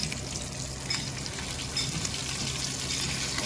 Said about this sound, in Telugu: ఒక 10 నిమిషాలు ఉంచేసి నేను ఇలా డీప్ ఫ్రై చేస్తున్నా